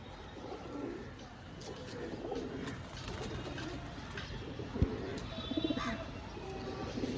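Soft, continuous cooing from a pair of green homer Madras pigeons, low and steady, with a few brief sharp knocks and faint chirps mixed in; no one speaks.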